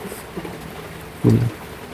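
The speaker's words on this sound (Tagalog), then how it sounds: "ilang araw hindi tumitila yung ulan dito sa amin" Steady rain falls during days of nonstop downpour, making a soft, even hiss with a brief louder low thump near the end.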